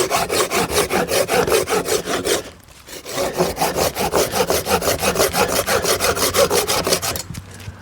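A GTIWUNG folding hand saw cuts through wood in steady, rhythmic push-pull strokes, loud and close, pausing briefly before resuming at the same pace.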